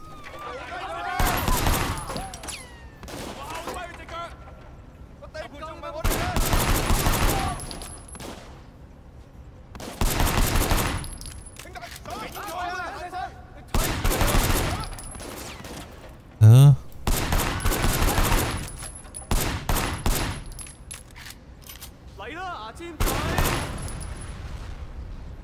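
Repeated bursts of gunfire in the video game Sleeping Dogs, loud and close, arriving in separate volleys several seconds apart, with a person talking between some of the shots.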